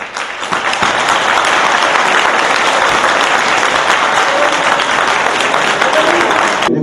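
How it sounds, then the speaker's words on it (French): A large crowd gathered to meet the minister of foreign affairs applauds steadily, dense sustained clapping filling the whole stretch at close, loud level before stopping abruptly at the end. "applaudissons tous et remercions tous le ministre des Affaires étrangères"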